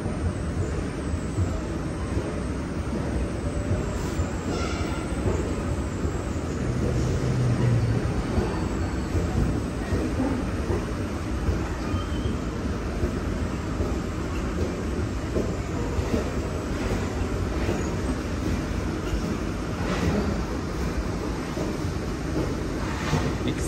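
A KONE moving walkway at Lidl runs continuously with a dense, steady mechanical rumble and rattle, close and even in level throughout, with no talking.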